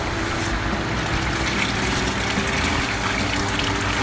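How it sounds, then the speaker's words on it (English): Water drains steadily from used perlite grow medium, a constant close rushing and trickling flow with no break and no voices. "So I drain it here as much as possible."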